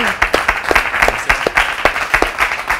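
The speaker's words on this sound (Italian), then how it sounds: "lo accogliamo con un bel applauso" An Italian TV studio audience applauds to welcome Giovanni Spanu, Italian pro K1 champion, onto the set: dense, steady clapping close and loud throughout, with no talk over it.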